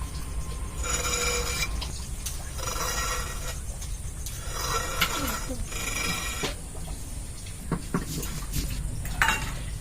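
Ridge gourd skin is peeled in a home kitchen with repeated rasping scraping strokes, each lasting a second or so, coming in a steady rhythm at close range with faint background noise.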